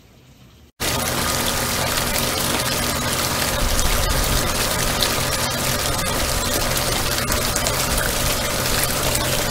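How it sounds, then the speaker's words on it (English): Running water washes pay dirt through a gold-prospecting sluice, a steady loud gushing rush that starts abruptly after a brief quiet moment and continues unbroken, likely with a pump running beneath it. "Let's get it run down the sluice and see what we've got in this pay dirt."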